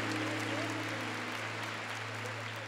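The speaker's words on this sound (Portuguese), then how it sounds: "pode aplaudir" Steady applause from a large church congregation at a Catholic mercy festival gathering, continuous dense clapping over a constant low electrical hum, with faint voices mixed in.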